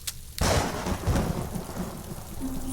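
Heavy rain with thunder: a sharp crack of thunder breaks in, then a loud, steady downpour roars on, with no voices.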